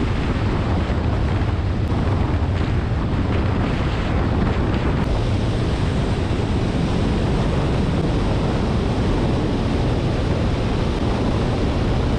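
Strong wind buffets the microphone on a road near Chapa, a steady, loud roaring gust noise filling the whole stretch without a break.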